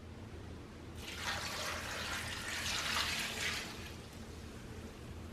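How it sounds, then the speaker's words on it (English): Broth poured into a cooking pot of potatoes, a steady liquid pouring rush that begins about a second in, swells through the middle and tapers off near the end, close and fairly quiet with no talking. "Then I'm going to add the broth."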